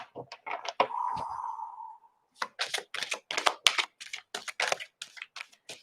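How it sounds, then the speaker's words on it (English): Tarot cards are shuffled in a rapid, irregular run of crisp papery riffles and taps, close and fairly quiet. A brief tonal hum sounds near the start. "Now I'm going to take it from the top. 1 last shuffle."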